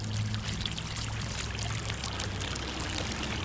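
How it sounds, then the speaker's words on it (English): Water from a pitcher pours steadily onto a model mountain of sand, soil, pebbles and mud, a constant close splashing gush lasting throughout with no talking. "Now, slowly pour a pitcher of water over the top."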